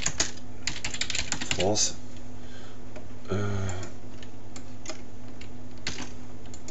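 Computer keyboard typing while a map location is entered, a loose run of light clicks and taps under someone speaking French, with a steady low hum behind.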